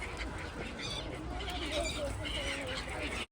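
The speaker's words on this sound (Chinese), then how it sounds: "这喂海鸥，海鸥可以啊" Seagulls being fed bread from a pirate ship ride in Baku call in scattered, overlapping squawks, fairly faint under constant wind and crowd noise, with indistinct voices in the background.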